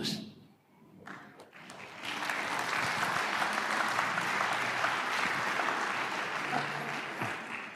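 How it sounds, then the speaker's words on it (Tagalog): Applause from a congregation in a church during a Tagalog sermon, rising after a quiet moment into sustained, dense clapping that holds steady before easing at the end. "Hindi ko alam kung hanggang kailan kayo papalapak."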